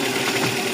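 A Suzuki APV engine runs at a steady idle right after starting, a brief close, even mechanical hum with no talk.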